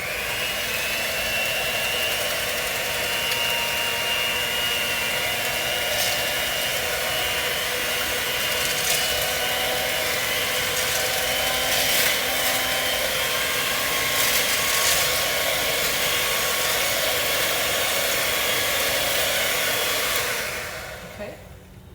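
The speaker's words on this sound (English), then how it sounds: "So now I'm going to turn on my whisk, and I'm going to whisk this." An electric whisk whirs steadily and loudly while mixing oatmeal walnut chocolate chip brownie batter, a continuous buzzing drone that holds for about twenty seconds before cutting off near the end.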